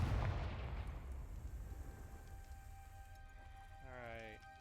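A Confringo fire spell cast in Hogwarts Legacy bursts as a loud, booming blast, then fades into a rumbling tail, with a brief rising magical shimmer near the end.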